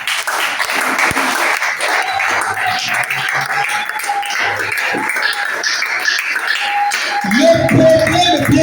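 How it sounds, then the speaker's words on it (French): A church congregation applauds with sustained, lively clapping that fills the room, while a few voices and a held tone rise underneath and music swells near the end. "On peut s'asseoir et acclamer Jésus."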